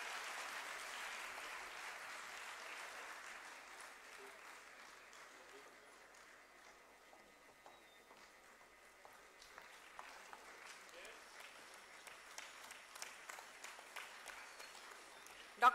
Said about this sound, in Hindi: तालियों की गड़गड़ाहट बनाए रखिए